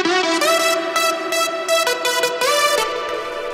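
Dominant layer of a synthesizer lead, a bright, buzzy melody in quick rhythmic bursts of held and repeated notes, played alone.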